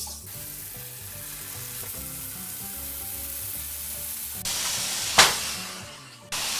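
Pot roast sears in a crockpot with a steady sizzle and frying hiss. A sudden loud spit of steam and crackle flares up near the end.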